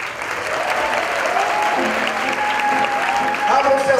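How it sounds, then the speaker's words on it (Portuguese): An audience at a school music choir gathering claps steadily for a birthday girl, continuous dense applause with faint voices and tones weaving through it. "Palmas para a Bela."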